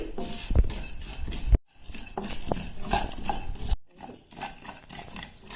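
Whole fennel, cumin, cinnamon and cloves roasting over a low flame in a pan, with a spoon repeatedly scraping and clinking against the metal in busy, close strokes, broken by two brief silent cuts.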